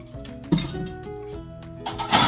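Metal baking pans for cornbread clink and clatter as they are handled and set down, several light knocks and scrapes close by.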